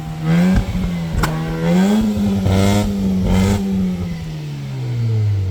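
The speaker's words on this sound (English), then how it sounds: "Go ahead, rev it real quick." Mazda RX8 rotary engine with a newly installed radiator and coolant, held at a steady high rev with small rises and falls, loud and close throughout.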